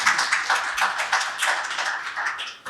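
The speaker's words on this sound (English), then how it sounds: "So with a round of applause, please welcome all the speakers." Audience applause welcoming the speakers at a legal technology session: a short burst of steady clapping from a group of listeners, fairly even throughout and ending abruptly.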